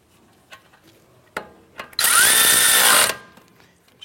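Power tool driving down two 10mm bolts on a flex line bracket at a vehicle's steering knuckle: a loud, steady whirring burst of about a second, preceded by a few short clicks and knocks.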